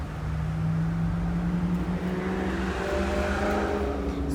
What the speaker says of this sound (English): Sorry for all the car noise. I live right by a main road.